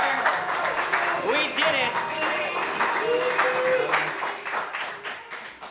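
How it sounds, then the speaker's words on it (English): Audience applause and cheering at an evening event, a steady wash of clapping running throughout while voices talk over it nearby. "Applause. Applause."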